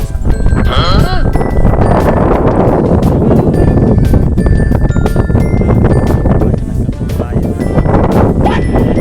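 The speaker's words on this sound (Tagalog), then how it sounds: "malakas ang hangin" Strong wind buffets the microphone with a constant roaring rumble, while people talk underneath and a few faint bleat-like tones come and go.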